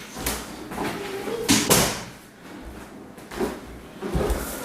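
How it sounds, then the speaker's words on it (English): A room door being shut, with a few knocks, clunks and a sharper bang of wood as it closes, nearby and moderately loud amid light handling noise. "I gotta close this door."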